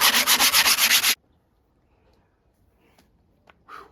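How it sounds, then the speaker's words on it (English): Sandpaper rubs rhythmically over a rusty metal sculpture, about ten quick even strokes in a loud close burst, then near silence with a few faint handling clicks and a brief scrape at the end. "20 minutes hard graft, sanding, going through loads of sandpaper"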